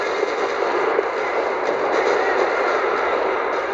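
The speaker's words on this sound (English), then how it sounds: "Another parking lot rattling with gunfire." Steady, dense rattling gunfire fills a parking lot in the video game Max Payne 3, a continuous loud clatter of shots with no voices over it.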